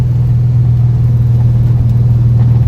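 A Corvette engine drones low and loud from inside the car, a steady close rumble with a slight rise as the driver gets on the throttle.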